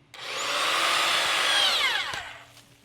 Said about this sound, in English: let's drill one more hole